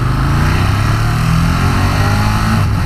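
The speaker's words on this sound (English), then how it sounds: "quick shifter on here works nicely. Both up and down the box." A 2018 Ducati Monster 1200S revs hard under acceleration, its engine note climbing in loud, close pulses with quick-shifter gear changes, and no voices are heard.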